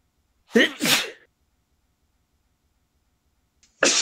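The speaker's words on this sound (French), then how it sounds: "Il faut que monsieur l'éternuement s'introduise au moment que j'allais énoncer ma future phrase" A single loud sneeze bursts out close by, then silence, and another sharp burst begins right at the end.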